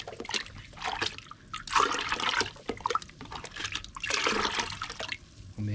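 Tumbled rocks are rinsed in water in bursts of splashing and sloshing, with short trickling pauses between the louder pours.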